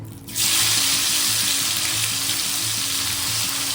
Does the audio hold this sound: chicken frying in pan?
yes